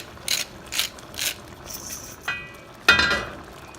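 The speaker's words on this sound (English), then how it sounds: "Let's add some ground pepper." A pepper mill grinds black pepper over a pot of low-carb chicken caldereta with zucchini, giving several short ratcheting bursts with brief pauses between them and a sharper, louder final twist.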